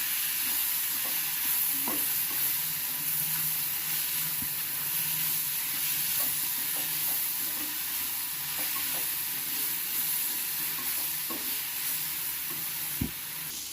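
Tomatoes and dried red chillies sauté in a pan for a curry leaf chutney, giving a steady low sizzle broken by occasional soft scrapes and taps of a spoon, with no voices.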